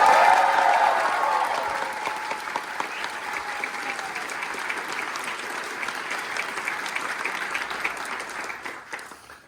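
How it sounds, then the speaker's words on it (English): Sustained applause from an audience at a curtain call after a final stage performance, loud at first and gradually thinning, with scattered clapping continuing throughout. "let's give them a big round of applause"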